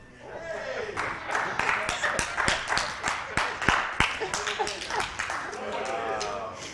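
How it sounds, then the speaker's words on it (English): An audience claps during a sermon-style talk, a run of sharp hand claps building and scattering over several seconds, with voices murmuring and speaking underneath. "You clap because you're glad he did it, or you thought it was a good decision?"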